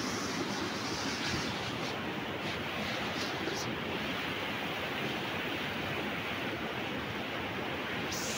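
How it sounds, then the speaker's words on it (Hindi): Water rushing steadily past at a riverside spot during a Durga Puja outing, a loud, dense, unbroken roar close to the microphone with no talk over it. "पूरा पानी जा रहा है"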